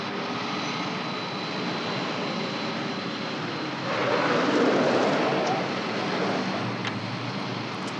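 An airplane engine drones steadily as a broad, even roar that swells louder around the middle and then eases back, with no talk over it.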